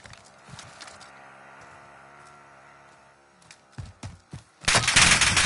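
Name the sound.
gunfire in a video game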